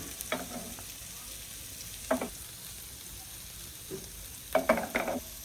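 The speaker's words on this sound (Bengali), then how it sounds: "বাটারটা একটু গরম করে তারপর কোপ্তাগুলো সুন্দর মতো বসিয়ে দিচ্ছি" Butter heats in a frying pan before beef kofta is fried, giving a low, steady hiss with a few short crackling sizzle bursts, quiet and close, with no voices.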